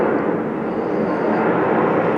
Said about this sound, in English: We're going to let this plane go by.